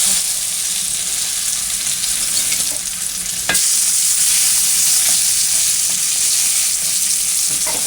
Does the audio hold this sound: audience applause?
no